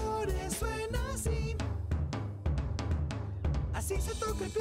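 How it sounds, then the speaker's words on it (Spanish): Drums played in a children's music segment alongside other band instruments, with steady beats running through the full mix of a song. "Tocando los tambores suena así."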